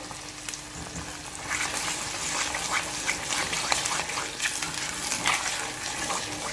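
Onions, garlic and tomato sauce frying in a pan in a home kitchen; a steady, dense sizzle and crackle fills the whole stretch at close range, growing slightly louder partway through.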